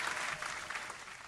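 A small group claps hands together in a short burst of fairly quiet, dense applause.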